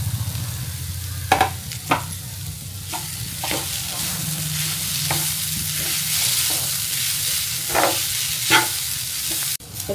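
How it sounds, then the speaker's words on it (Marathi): Ingredients for a Ganesh festival offering sizzle as they dry-roast in a home kitchen pan, with a steady frying hiss and repeated scraping stirs of a spoon against the metal. "थोडं भाजून घ्यायचं।"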